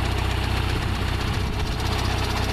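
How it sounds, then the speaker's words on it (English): A John Deere 350 tractor with a sickle bar mower idles nearby with a rough, knocking engine rhythm, a steady low drone under constant vibration and rattle. "And the tractor's vibrating, the lift's vibrating."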